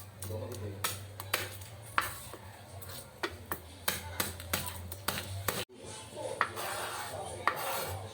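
Knife cutting tomato, garlic and onion on a board for a sardine dish, a string of crisp taps and scraping chops at an uneven rhythm over a low steady hum, with a brief pause midway.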